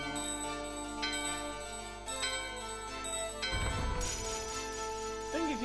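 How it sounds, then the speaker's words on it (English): Several clear chiming bell strikes in Final Fantasy IX, spaced about a second apart and ringing out over game music, followed by a brief burst of louder effect noise near the end. "Let's ring the bell!"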